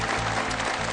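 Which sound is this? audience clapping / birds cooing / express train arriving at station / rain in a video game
audience clapping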